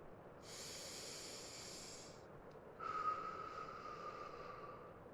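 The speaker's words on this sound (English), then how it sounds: "Nice deep breath for me" A slow deep breath is taken during a mock medical exam: a soft airy inhale followed by a longer whistling exhale, close and quiet, with no speech.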